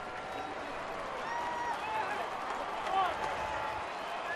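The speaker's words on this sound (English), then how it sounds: "the crowd trying to will the final out here in the 7th inning" Baseball crowd at Tropicana Field murmuring and cheering steadily, building in loudness toward a late-inning final out, with scattered voices rising in a continuous distant roar.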